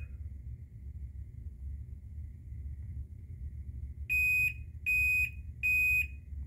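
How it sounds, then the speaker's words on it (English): A myQ garage door opener unit gives three evenly spaced, loud electronic beeps while connecting to a network. They sound alone over a low steady background rumble. "now it's going to beep a few times as it tries to connect to the network"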